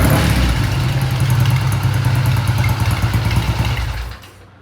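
A white Triumph T120 motorcycle engine runs loud and close with a raspy, clattering mid-range tone, holding steady before dropping off abruptly near the end.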